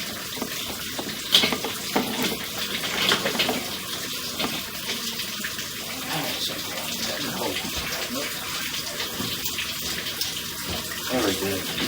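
Water rushing steadily through a sewer pipe, heard at an open clean-out during a drain inspection, with a continuous hissing, splashing flow that holds at the same level throughout.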